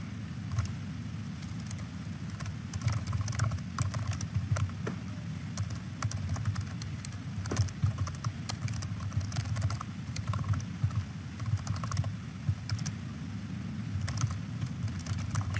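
Steady computer keyboard typing, a continuous patter of close, quiet keystrokes with no pauses, running alone without any talk.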